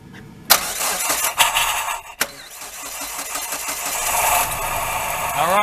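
A Nissan car with a misfire fault cranks without starting, its starter turning over in a steady, loud, close churning run after a couple of sharp clunks, with no catch or idle.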